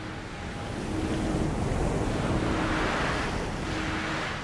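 Rough, wind-driven sea during a storm off Saint-Malo, with waves and surf rolling in a steady, loud wash under strong wind noise; a faint low hum runs through it, and no one speaks.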